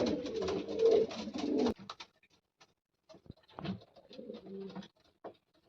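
Loft pigeons cooing, low throaty coos in a couple of bursts separated by quiet gaps with faint wing and foot patter, close and fairly soft.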